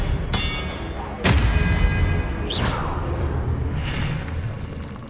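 Expelliarmus spell cast in the game Hogwarts Legacy, sharp magical cracks and booming impacts with a rising whoosh, loud and dense over continuous game noise.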